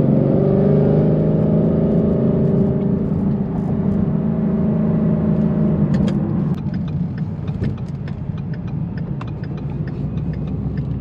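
A 700-horsepower Ford Mustang drives with a deep, loud engine rumble and revving, then eases off to a lower idle with scattered clicks and rattles.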